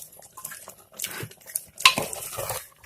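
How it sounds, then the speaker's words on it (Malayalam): Pieces of ash gourd are stirred in a cooking pot for a moong dal curry, giving close, irregular scrapes and clinks of a utensil against the pot, with one sharper metallic knock midway and no talking. "നന്നായിട്ട് ഇളക്കി കൊടുക്കാം."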